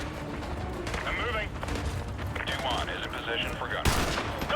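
Heavy bursts of powerful gunfire in Call of Duty Modern Warfare 2 Remastered, booming shots one after another over battle noise, with people speaking throughout.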